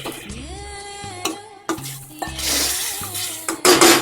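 A spoon stirs papaya pickle in a pot, giving a few scraping, clinking strokes close by with faint sizzling underneath and no talking.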